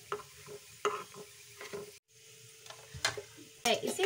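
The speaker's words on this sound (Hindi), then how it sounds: "इसे हम चारों साइड से पलट के सेक लेंगे।" Masala bati turned and roasted in a pan, a soft sizzle running under repeated light scraping and stirring knocks, with a short pause midway and sharper clatters near the end.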